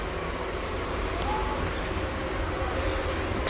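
Steady rumbling drone of a moving passenger train heard from inside a carriage on an Indian rail journey, continuous and fairly even throughout with faint rattles, no voices.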